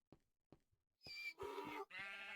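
Sheep on a sheep farm in the Minecraft video game bleat several times in quick succession, preceded by soft clicking footsteps, the bleats loud and close.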